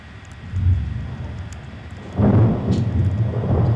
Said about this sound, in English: It's storming outside.